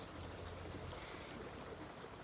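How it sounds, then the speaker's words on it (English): Faint, steady rush of a stream's running water outdoors at sunset, a soft continuous wash with no distinct splashes and no voices. "Just like running water behind me, beautiful stream in the sunset."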